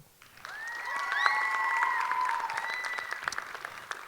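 Applause from an audience at a school spoken word event, honoring a teacher, rising after a quiet start and holding steady, with a drawn-out whistle or cheer riding over the clapping.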